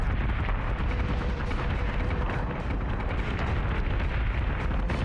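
Missile explosions in the space combat video game Battlestar Galactica: Deadlock form a dense, continuous rumble of blasts and booms, loud and sustained with no clear gaps.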